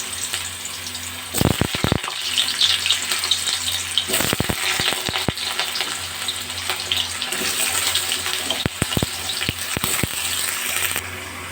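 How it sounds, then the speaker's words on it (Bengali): Potatoes with salt and turmeric sizzle in oil in a kadai over a lowered gas flame, a continuous crackling hiss broken by occasional clinks and scrapes of stirring, with no voices. "গ্যাসের ফ্লেমটা কমিয়ে আমি আলুগুলো ভেজে নিলাম"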